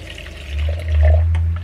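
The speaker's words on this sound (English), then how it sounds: "it's rubbing up against the glass with the water and like getting the product off of it." Water sloshes and churns inside a glass bowl as a makeup brush cleaner spins, a close, rolling wet rumble that swells twice and has no talking over it.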